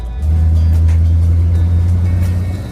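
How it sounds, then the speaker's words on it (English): A 1968 Dodge Charger rat rod idles loudly and steadily, its low engine rumble holding close and constant throughout the brake test. "All right, ready for the brake test?"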